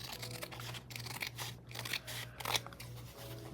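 Scissors trim fabric washi tape up close, making a quick series of crisp snips and crunchy cuts over a faint steady hum, with no voices.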